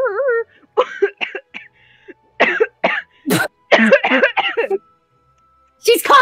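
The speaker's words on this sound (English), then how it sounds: "She's coughing!" A young girl coughs and clears her throat in a string of short, close bursts, with a sung or hummed tone at the start and pauses between coughs.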